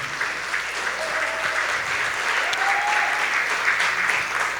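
A church congregation at a sermon claps steadily for several seconds, a moderately loud, even wash of applause with faint voices calling out beneath it.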